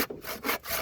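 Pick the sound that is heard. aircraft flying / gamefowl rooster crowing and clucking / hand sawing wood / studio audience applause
hand sawing wood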